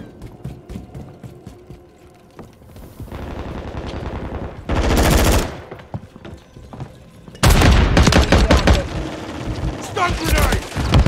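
Rapid automatic gunfire and heavy bursts ring out during a Modern Warfare 3 team deathmatch on the Skidrow map. Loud rattling volleys come and go between quieter stretches, with in-game voice callouts mixed in.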